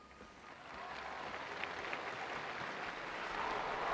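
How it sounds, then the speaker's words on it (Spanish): Faithful gathered in St. Peter's Square applaud after a papal blessing, a broad, distant wash of clapping from a large outdoor crowd that swells slightly toward the end. "el aplauso de los fieles congregados en la plaza de San Pedro acoge la bendición del Santo Padre"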